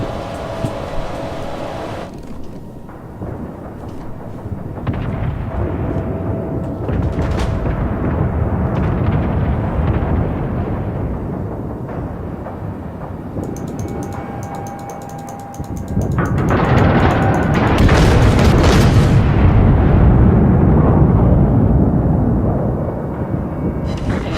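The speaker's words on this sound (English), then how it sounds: "Destroyed an enemy battleship." Warship gunfire and explosions in a naval combat video game: loud, continuous booming and rumbling salvos with overlapping blasts, swelling into a heavier sustained barrage in the second half, with no talk.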